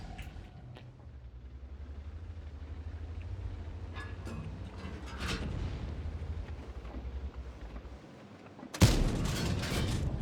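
Tank cannon fire in World of Tanks, with a low rumbling engine drone building toward a single loud, sharp cannon blast near the end, followed by sustained roaring noise.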